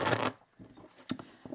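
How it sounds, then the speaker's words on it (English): Oracle cards are shuffled by hand: a dense, close riffle followed by several quieter taps and slides as the deck is squared and mixed again. "So let us pull some oracle cards for you,"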